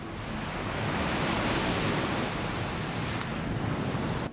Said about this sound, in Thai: ได้ยินเสียงของคลื่นไหม ที่มัน กระทบ เข้า หาดทราย